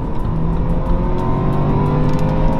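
A 2018 BMW X4 accelerates into a curve on a road in Abidjan, its engine a loud, close, steady roar with no break.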